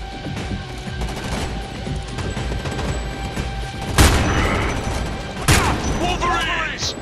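Rapid gunfire and weapons fire in the video game Homefront 2, a steady crackling barrage with two louder blasts about four and five and a half seconds in.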